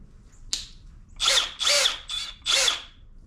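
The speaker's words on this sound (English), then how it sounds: "gonna try to drill it out" A cordless M18 power drill bites into a part on the cylinder head of a 2001 Cadillac DeVille Northstar engine with a blown head gasket, whirring in four short, close bursts after a sharp tap.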